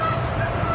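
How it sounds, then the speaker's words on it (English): Canada geese honk by a river, a loud, close burst of nasal honking that fills the whole brief moment. "See some Canadian geese down there, or Canada geese."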